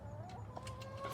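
Backyard hens cluck in short repeated bursts over a steady low hum, with one bird's drawn-out call running beneath the clucks at moderate distance.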